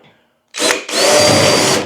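A power drill whirs loudly after a brief quiet, stops for a split second, then spins up again and runs steadily to the end, during a metal loft ceiling installation.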